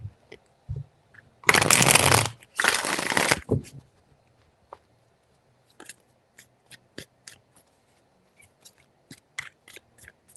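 Tarot cards are shuffled by hand in two quick riffling bursts, crisp and close, followed by scattered soft taps and card handling sounds in a quiet room.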